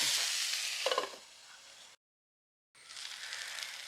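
Green beans sizzling in a hot pan as they are stirred, a bright frying hiss with a scraping stir near the start, a short silent cut, then steady sizzling resumes close by.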